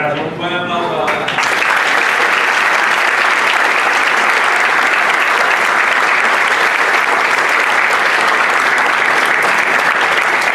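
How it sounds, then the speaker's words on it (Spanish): Sustained audience applause fills a hall at the end of a talk on mixed media. A voice is heard briefly first, then dense steady clapping continues to the end. "Un buen aplauso"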